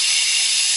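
Coffee machine steam wand frothing milk in a jug, a loud, steady close hiss with no break for under a second.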